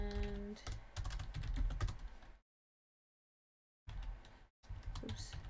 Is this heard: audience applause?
no